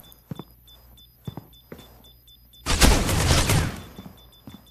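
Burst rifle fire in the mobile shooter Critical Ops: a dense, loud rattle of rapid shots lasting about a second, preceded by scattered lighter clicks and interface beeps.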